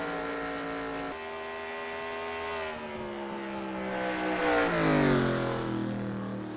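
Race car engines from the eNASCAR Heat game racing at Las Vegas, a steady sustained harmonic drone whose pitch holds then climbs and sweeps as the car accelerates, loud and continuous with no voices.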